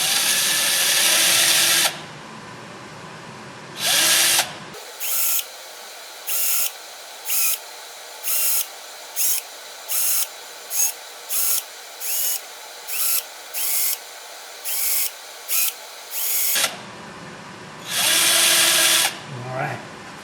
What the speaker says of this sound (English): drill me a few little bitty holes